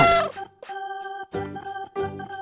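A cat meows several times at close range, drawn-out tonal calls spaced about half a second apart. Nothing else is audible.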